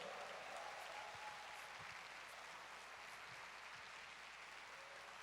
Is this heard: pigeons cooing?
no